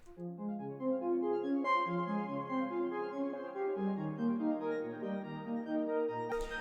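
A slower, laid-back synth arpeggio with a halftime effect steps through its notes at a relaxed half-speed pace, steady and clear, ending with a short click.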